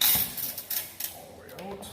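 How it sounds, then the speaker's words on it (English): An AR-15 buffer and spring slide out of the lower receiver after the detent is pressed down, giving quick metallic clicks and scraping rattles close up at moderate volume. "On lower receiver, you can take out the buffer and spring by pushing down on the detent."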